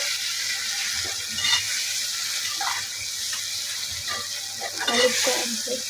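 Egg masala curry being stirred in a frying pan, with a steady sizzle and repeated scraping strokes of a spoon through the thick sauce, close and moderately loud, no talking.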